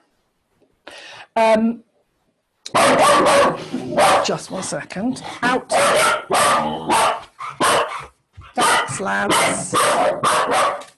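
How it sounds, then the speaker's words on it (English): Dogs bark loudly indoors in repeated bursts, mixing with a person speaking over them, the barking close and insistent for most of the stretch. "The dogs might bark."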